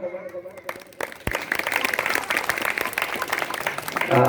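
A church audience at a Christmas celebration claps for a tabla player, a brief voice giving way to dense, sustained applause that holds loud and even to the end.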